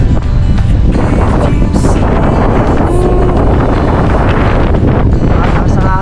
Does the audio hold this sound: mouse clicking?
no